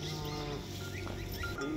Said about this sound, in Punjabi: ਨਸਲ ਗਾਂ ਦੀ ਹੈਗੀ ਹੈ ਫ੍ਰੀਜ਼ਨ ਵਿੱਚੋਂ ਜਰਸੀ ਤੇ ਚੋਲਸਤਾਨੀ ਕਰਾਸ